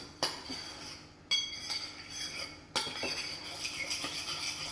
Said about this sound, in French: On mélange. On touille, on touille, on touille.